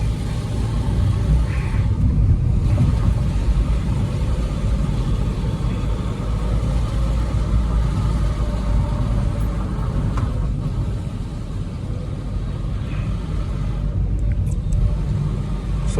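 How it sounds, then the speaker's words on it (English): Diesel clatter from a VW Vento TDI engine idling at low RPM on wet, rainy roads, a steady close rumbling drone that carries on without a break and sits under faint road and rain noise. "so you can listen to the engine clatter also on the lower RPM"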